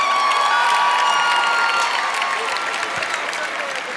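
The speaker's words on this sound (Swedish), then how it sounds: "En stor applåd för er själva." Loud, continuous applause from a large audience, dense clapping that holds steady for several seconds and eases off slightly near the end.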